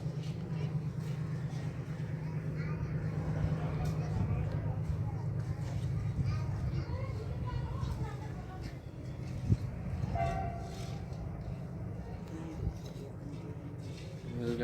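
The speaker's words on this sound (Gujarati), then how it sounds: "રેલગાડી આવી છે, તમે જોઈ શકો।" An empty goods train rolling past near a construction site, a steady low rumble of wagons carrying on throughout while a person talks over it, with a brief faint horn and scattered clanks.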